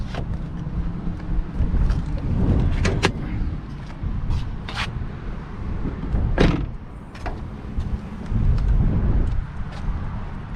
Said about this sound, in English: I'll pop the hood.